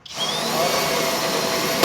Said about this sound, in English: hang on to the drill, bracing it with your body and your hands, and just simply pull the trigger